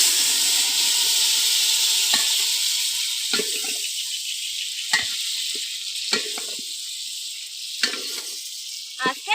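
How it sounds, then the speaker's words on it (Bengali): Marinated prawns hit hot oil in a pot and sizzle steadily, a loud continuous frying hiss with occasional spatters and stirring clicks, no voices. "এবার এই ম্যারিনেট করা চিংড়ি মাছগুলো দিয়ে দেবো।"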